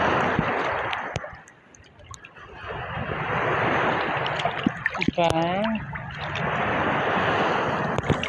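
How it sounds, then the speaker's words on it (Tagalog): Big ocean waves surge and wash around a person standing in rough sea, a broad continuous roar of surf and wind buffeting the microphone, with a few short spoken words and exclamations partway through. "Tangay na ako ng alon. Ayan. Ayan, laki ng alon."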